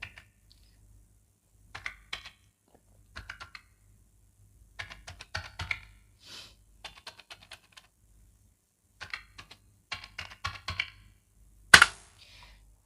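Keys on a computer keyboard tapped in short, sparse clusters while a date is entered in an Excel spreadsheet, with crisp close clicks separated by quiet gaps and one louder clack near the end.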